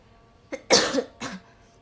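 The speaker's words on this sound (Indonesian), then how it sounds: "Batuk." Three coughs in quick succession, the middle one longest and loudest, close by with quiet between them.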